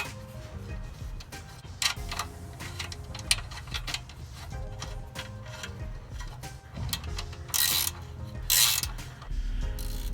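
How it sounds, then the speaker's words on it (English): A ratchet tightens the nuts on an exhaust clamp around a muffler connector pipe, giving repeated clicking pawl strokes in uneven bursts, close and moderately loud, with bright metallic scraping toward the end. "I tighten these nuts as hard as I can to make sure the clamp bends the connector pipe enough to hold onto the inner pipe"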